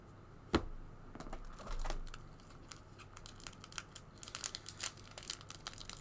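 Foil wrapping of a Magic: The Gathering Commander Legends booster pack crinkles and tears as it is pulled open, with a sharp rip near the start and a run of small crackling snaps afterward, close and moderately quiet.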